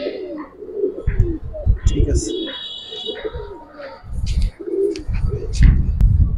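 Pigeons cooing in a loft full of young fancy birds, soft repeated coos and chirps close by, with someone talking over them throughout.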